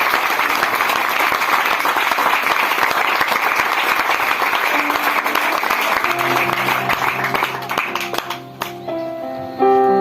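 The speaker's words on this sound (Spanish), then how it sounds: "Vamos a darle un aplauso fuerte al Señor" Loud, sustained applause from a church congregation fills most of the span, thinning toward the end as sustained organ or keyboard tones rise beneath it.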